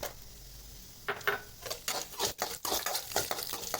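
Garlic and dried red chillies sautéing in a pan, a soft steady sizzle under repeated close scraping and clinking of a spoon stirring against the metal, in uneven bursts with no talk.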